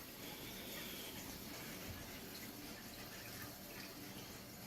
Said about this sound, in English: Boiler is filling right now.